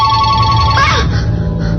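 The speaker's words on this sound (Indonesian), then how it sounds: "Itu suara handphoneku ternyata." An electronic phone ringtone trills steadily with a warbling, repeating tone over a low background hum, fairly loud and close.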